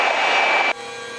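An Airbus EC135 medevac helicopter at takeoff gives a loud, close turbine roar that cuts off abruptly, leaving a lower, steady tonal whine.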